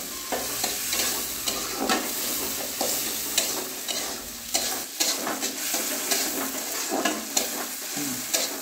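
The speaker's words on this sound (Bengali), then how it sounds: "আমার প্রায় পেঁয়াজ আর রসুন এগুলো সমস্ত প্রায়, টমেটো প্রায় একদম ভাজা হয়ে গেছে" Onion, garlic and tomato fry in plenty of oil in a pan, a close, continuous sizzle broken by repeated scraping stirs at an uneven rhythm, with no voices.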